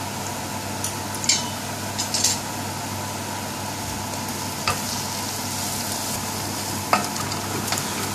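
Chili and haldi powder spices sizzle steadily in hot oil in a pan for a British Indian restaurant-style curry, with occasional scrapes and clinks of stirring over the constant frying hiss.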